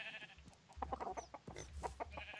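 Minecraft chickens cluck in quick, faint bursts, with soft low thumps underneath and no talk.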